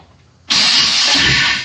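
A Chevrolet Biscayne engine fires up on the ignition key after a brief quiet pause, catching abruptly into a loud, steady roar that holds without any pause to the end.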